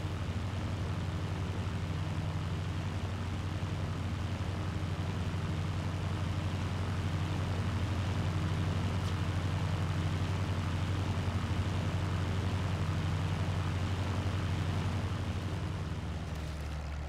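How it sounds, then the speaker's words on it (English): Steady droning airplane engine from a flight simulator game running on an old IBM NetVista M41 PC, a continuous low hum holding evenly at moderate level throughout with no talking. "I'll try and fly a plane and just see how it goes"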